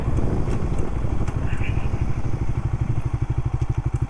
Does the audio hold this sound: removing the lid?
no